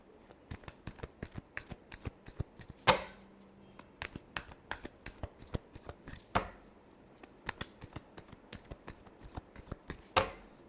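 Tarot cards shuffled by hand in repeated quick riffling bursts, close and crisp, with a few louder slaps and snaps standing out, and no talking.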